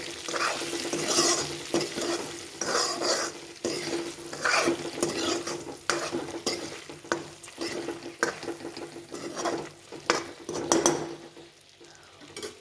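Stuffed eggplant sizzles as it is stirred through a spiced masala in a pan, with repeated scraping and clinking of a spoon against the cookware over a constant frying hiss, and no talking.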